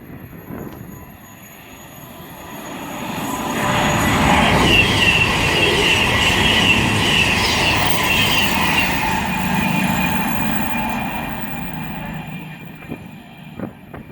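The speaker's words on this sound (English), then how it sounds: "now approaching is going to be a Virgin Super Voyager bound for Chester" A Virgin Super Voyager train bound for Chester on the West Coast Main Line at Tamworth swells into a loud, steady rumble with wheel squeal as it passes close by, then fades away.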